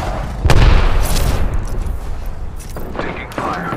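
Gunfire and explosions in Apex Legends video game combat, with a heavy boom and rapid shots close up, followed by further pops and bursts as voices speak over the action.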